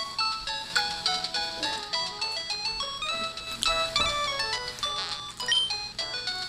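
A phone ringtone plays in Pokemon Emerald, a bright chiptune melody of rapid beeping electronic notes repeating continuously for several seconds, close and alone with no talk.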